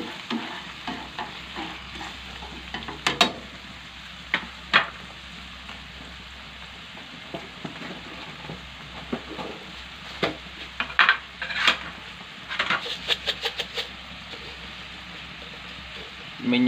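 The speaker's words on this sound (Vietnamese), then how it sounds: "mình đảo sơ cái hàu này đi nhé" Oysters being tossed in a hot pan for a tomato-sauce dish, a continuous close sizzle and frying hiss with repeated sharp scrapes and clinks of the utensil against the pan.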